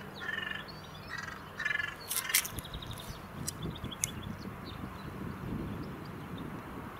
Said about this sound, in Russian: Каркает, летит.